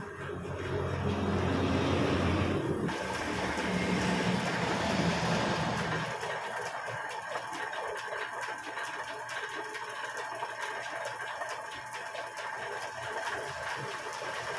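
A milling machine cutting a 25-tooth sprocket runs in a loud, continuous grinding roar, harsher and denser for the first few seconds, then settling into a steady mechanical drone with faint ticking, with no speech.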